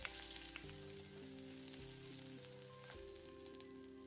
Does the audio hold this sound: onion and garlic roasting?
yes